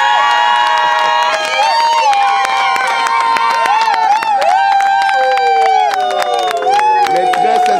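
Wedding guests at the official wedding of Serge and Laetitia cheer loudly, a dense wall of shouting and whooping voices with scattered clapping that holds for the whole stretch.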